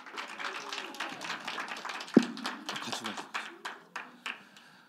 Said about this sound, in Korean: 우리 함께 큰 박수로 강사님을 모시겠습니다